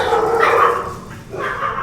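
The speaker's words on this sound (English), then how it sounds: "My dogs say hello, by the way." Dogs in a home bark in a couple of short bursts, a close, moderately loud woofing separated by a brief pause.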